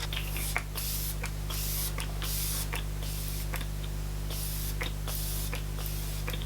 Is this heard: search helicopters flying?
no